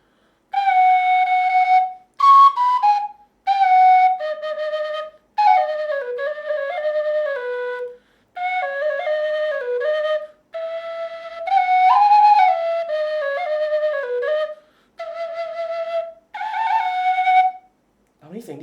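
A solo Thai flute plays a lilting melody in a series of short phrases with bending, wavering notes and brief breaths between them, close and bright.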